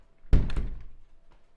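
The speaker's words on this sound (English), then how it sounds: "Then walk back in your door." A house door thudding as a dog trainer steps back inside, one sharp close thunk with a short rattling tail and a faint tap after, in a quiet room.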